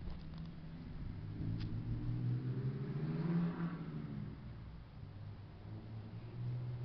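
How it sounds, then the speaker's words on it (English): A Dodge pickup with a Cummins turbo diesel pulls out, a faint, distant low engine rumble swelling briefly and easing off, heard from some way off at a former brick high school site. "Just seen a Dodge pull out."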